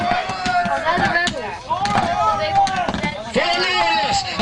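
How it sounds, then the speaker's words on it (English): A crowd of spectators at an outdoor Roman-era reenactment cheers and shouts loudly for the British rebels, a dense continuous roar of many voices rising and falling together. "A big cheer loud for the rebels!"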